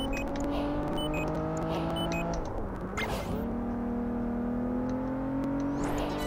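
Engine of the latest Aston Martin in the racing game Project Gotham Racing 4, a steady sustained drone that dips and then climbs again as the car shifts and accelerates, heard alone without commentary.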